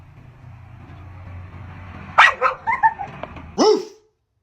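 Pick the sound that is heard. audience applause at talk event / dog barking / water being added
dog barking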